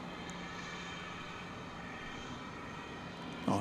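An American Airlines Boeing 737-800 taking off at night from runway 18 Left at DFW Airport, a steady broadband engine roar heard from a distance with constant level throughout and no voices.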